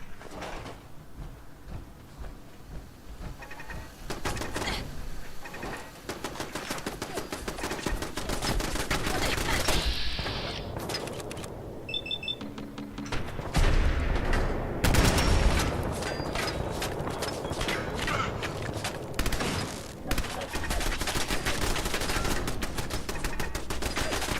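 Gunfire from a .45 pistol in the Fallout video game: a dense run of shots and impacts that continues for the whole stretch, loud and close, with heavy overlapping game action.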